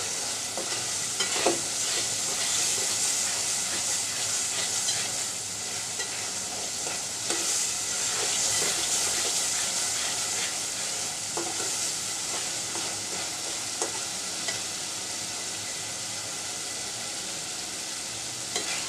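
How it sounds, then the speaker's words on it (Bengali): Masoor dal frying in hot oil while being stirred gives a steady, close sizzle, with scraping and clinking from the spoon at intervals and no voices. "মসুর ডালটাকে একটু তেলের মধ্যে কষিয়ে নিচ্ছি"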